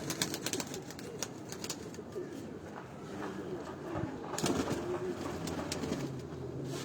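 A black pigeon coos among other pigeons, steady low murmuring over a continuous bed of outdoor noise with scattered soft rustles and taps.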